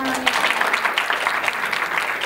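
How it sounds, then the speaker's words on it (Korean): Dense, continuous applause from a concert hall audience at a hip-hop, dance and vocal showcase, steady and fairly close for the whole short stretch. "박수를 더 크게 주셔야죠, 여러분."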